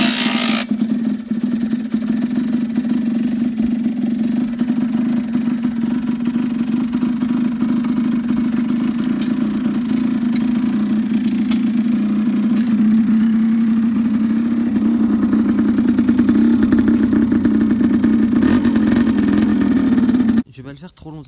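A Rieju MRT Pro 50cc supermoto engine starts and then idles loudly close by, a steady buzzing hum that rises slightly in pitch toward the end before cutting off abruptly, with someone speaking over it.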